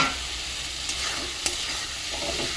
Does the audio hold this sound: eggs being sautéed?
yes